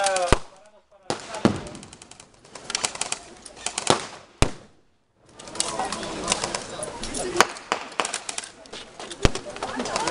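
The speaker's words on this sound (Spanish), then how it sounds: "vemos como la ametralladora de M-34 está colocada en el búnker" An MG 34 machine gun fires from a bunker during a World War II reenactment of an assault on a German bunker in A Coruña: dense crackling bursts and sharp reports with brief silent gaps between them.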